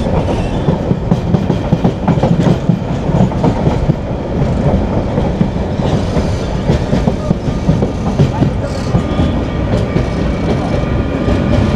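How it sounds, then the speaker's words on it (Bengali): Saikat Express train rolling over a rail crossing near Cox's Bazar, a loud, continuous clatter of wheels on track with rhythmic clickety-clack and faint voices in the background. "এই যে আমরা কক্সবাজারে সেই রেল ক্রসিং পার হচ্ছি"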